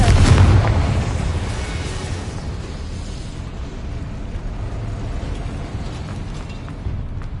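Confringo blasting spell explosion: a single loud boom at the start that decays into a long rumbling, crackling tail, heard alone.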